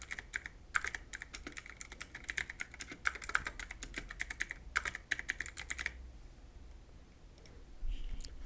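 Rapid typing on a computer keyboard during a PC fix for a Fortnite D3D11-compatible GPU error, a steady run of close, crisp key clicks in several bursts before falling quiet, with no talk.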